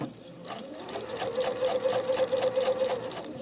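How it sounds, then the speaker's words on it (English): A sewing machine stitches a pillow case, a rapid run of evenly spaced mechanical clacks over a humming motor whine, close and steady for a few seconds. "You just continue to stitch. Do some stitches."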